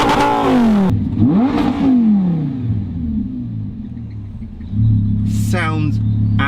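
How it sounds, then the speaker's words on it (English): A Stage 1 tuned Lamborghini Gallardo LP560 engine revs loudly and close by, rising and falling in a few sharp sweeps before settling into a deep, steady idle. "give it a little rev."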